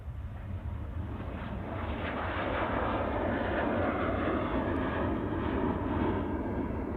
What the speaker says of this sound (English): the first departure will be hopefully the Dreamliner